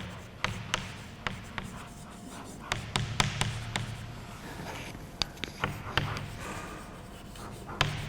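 Chalk or marker writing on a board during a physics lecture, with sharp taps and scratchy strokes in irregular bursts over a low room hum, fairly close and moderately loud, with no talking.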